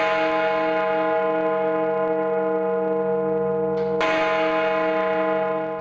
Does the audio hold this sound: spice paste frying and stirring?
no